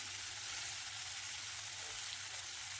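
Cluster beans fry in oil over a tempering of turmeric and curry leaves, giving a steady, soft, even sizzle with no talking.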